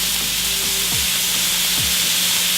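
Onions and garlic sautéing in oil in a pot, a bright continuous hiss of frying that stays steady and loud throughout with a faint low hum underneath.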